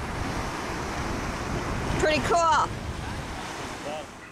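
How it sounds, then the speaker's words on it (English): Waves wash and surf rolls steadily along Edisto Beach, with wind buffeting the microphone throughout, and someone speaks briefly over the sea. "We are at Edisto Beach"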